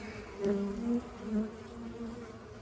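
Honeybees feeding on winter fondant inside a hive give a faint, close buzzing hum that swells and fades in a few short waves.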